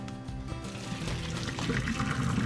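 Water pours and splashes as boiled Brussels sprouts are drained in a colander, a steady gushing stream nearby that grows slightly fuller and louder toward the end.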